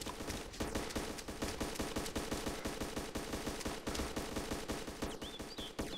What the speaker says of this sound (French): qu'est-ce que c'est que ce tir?